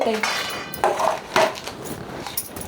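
Dishes and utensils clink and clatter in a few sharp knocks as they are set down and stacked, close and fairly loud.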